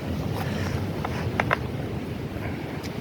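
A petrol chainsaw with a poor chain-oil feed runs steadily, a continuous, fairly loud low engine drone with small rattling ticks on top, outdoors while cutting firewood.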